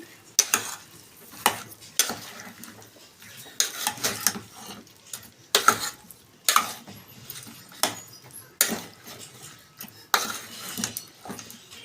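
Brinjal pieces tossed with salt are stirred in a pan, a spoon scraping and clattering in repeated bursts at a steady rhythm, close and moderately loud with no talking.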